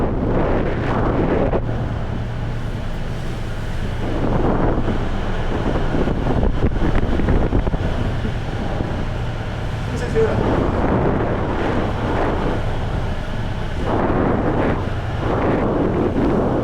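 Sea waves breaking on a shore under strong, steady wind that buffets the microphone, with a continuous roar and repeated swells of surf.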